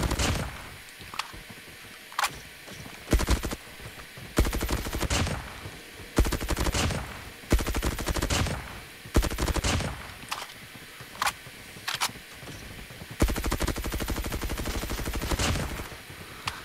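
Groza assault rifle from a battle pass firing in a video game: repeated bursts of automatic gunfire, loud and close, with short pauses between volleys across the whole stretch.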